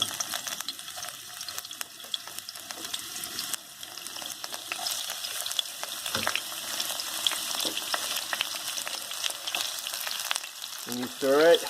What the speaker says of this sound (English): So I'm heating up the oil. Then the first thing I'm going to put in is the ginger until it's like brown